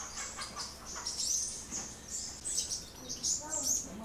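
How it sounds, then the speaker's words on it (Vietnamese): Caged songbirds at noon keep up a busy stream of shrill, high chirps and hissing calls, several birds overlapping in quick repeated bursts close by. "nhiều con hót, nhiều con rít ở buổi trưa ở đây rít hơi bị ghê"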